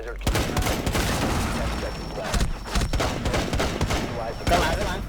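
Rapid bursts of gunfire in Rainbow Six Siege crackle loudly in quick volleys, with excited voices talking over the shooting.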